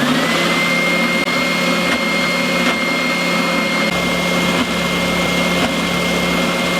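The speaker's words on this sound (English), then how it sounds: "I'm going to use the spindle sander to sand out the inside of that guitar body." A Triton spindle sander with a faulty spindle that keeps dropping runs steadily in a workshop, a loud, constant motor drone with a steady hum and whine and slight wavering, no speech.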